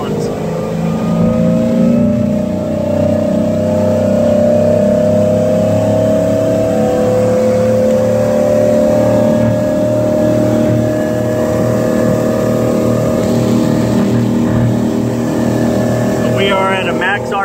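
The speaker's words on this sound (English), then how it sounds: "Go ahead and bring it up to speed here so that we can double check the props for you" A 2010 Cobalt 210 boat's engine accelerating to speed on the water during a prop test, a loud, close, steady drone rising in pitch. Talk can be heard faintly over the engine.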